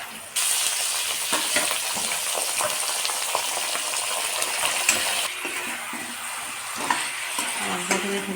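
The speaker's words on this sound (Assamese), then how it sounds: "মাংসখিনি ধুনীয়াকৈ লৰাই লওঁ।" Pork frying in a kadai with onions, stirred vigorously: loud continuous sizzling close by, broken by repeated spatula scrapes and clatters, with a brief watery gush, no speech.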